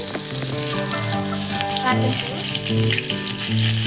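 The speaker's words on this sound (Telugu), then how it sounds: "ఆయిల్ అయితే హీట్ అయ్యిందండి. నేను ఉల్లిగడ్డలు వేస్తున్నా కొన్ని." Sliced onions dropped into hot oil for a small bitter gourd curry, frying with a steady loud sizzle throughout and a faint voice speaking over it.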